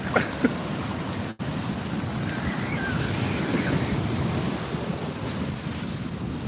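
Ocean waves break on a beach in a steady, loud surf roar, with heavy wind buffeting the microphone and a brief dropout partway through.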